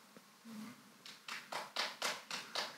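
Audience clapping at a live arts talk show, starting with a few scattered claps and building into about six loud, distinct, rhythmic bursts of clapping close by.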